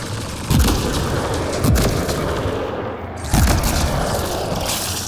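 Gunfire in the video game Mass Effect: Andromeda: three loud, sharp shots spaced about a second apart, each with a booming low thump over a constant background rumble of the game's ambience.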